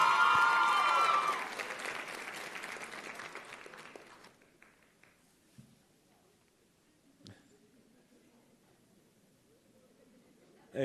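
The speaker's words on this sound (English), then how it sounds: "Round of applause for David." Applause for David Mayo at a convocation, a burst of crowd clapping that starts strong and fades away within a few seconds, leaving near quiet with a few faint knocks.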